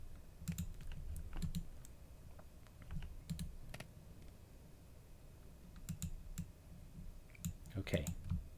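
Keyboard and mouse clicking while playing the modded Minecraft pack FTB OceanBlock 2, with quick irregular taps and short bursts of clicks close to the mic over a faint low hum.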